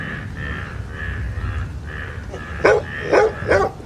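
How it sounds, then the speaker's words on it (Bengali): A dog barking at night on a rainy evening near a bamboo grove, starting as a faint repeated call in the distance, then three louder, closer barks near the end, with no speech. "হঠাৎ আমার পিছনে কুকুর ডেকে উঠল।"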